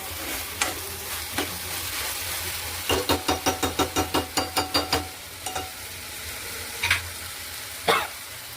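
Malabar spinach (basale greens) cooks in a hot pan with a soft background sizzle, punctuated by a quick rhythmic series of about a dozen spatula taps and stirring scrapes, then a few scattered clacks near the end.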